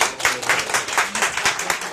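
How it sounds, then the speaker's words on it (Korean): Short burst of rhythmic audience clapping at a leadership coaching lecture, individual claps distinct and fairly close, with no talk over it. "이제 18 박수해 주세요"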